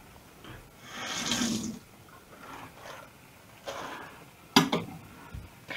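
Running water splashes in short bursts from a tap into a beef stew pot, with pauses between pours and a sharper splash near the end.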